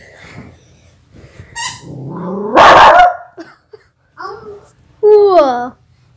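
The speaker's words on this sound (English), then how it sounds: "She's barking at someone." A dog gives a few sharp, loud barks close by, interspersed with a child's babbling and high-pitched voice between the barks.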